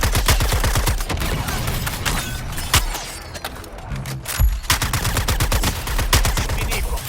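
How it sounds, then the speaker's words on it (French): Rapid bursts of gunfire from the video game Suicide Squad: Kill the Justice League, dense repeated shots filling nearly the whole stretch with a brief lull midway, loud and continuous over game sound. "Pardon pour les balles perdues, Deadshot."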